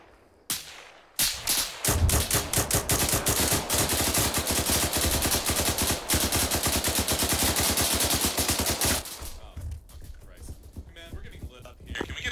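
Sustained automatic gunfire pours in on a position in ArmA 3, a rapid unbroken stream of loud cracking shots lasting around seven seconds before cutting off to scattered quieter sounds.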